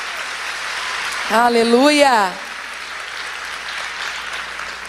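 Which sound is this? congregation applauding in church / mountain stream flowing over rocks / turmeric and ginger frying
congregation applauding in church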